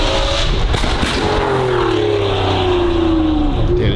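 A car engine revs hard close by, its pitch rising and sliding in long, loud sweeps over a constant roar, with sharp crackling exhaust pops. No one speaks.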